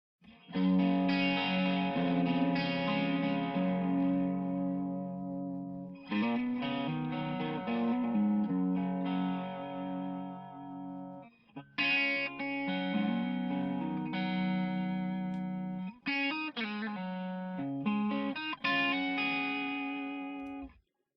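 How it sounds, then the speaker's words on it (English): A sustained, heavily effected music passage with ducked reverb tails that swell and pull back in rhythmic pulses, playing in several long phrases with brief gaps. "Now we should hear a little bit of ducking on the reverb."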